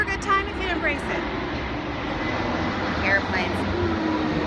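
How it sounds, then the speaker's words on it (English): Airplanes fly overhead at a convention setting, a steady broad engine roar filling the whole stretch with murmuring voices and crowd noise mixed underneath. "Airplanes."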